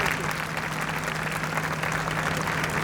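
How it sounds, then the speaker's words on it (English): Audience applause at a book launch event, steady dense clapping from a large crowd filling the whole stretch at an even level, with no speech over it. "can I have a shared round of applause"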